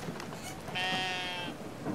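A sheep in the video game Brothers: A Tale of Two Sons lets out a single short bleat over a faint, noisy game background.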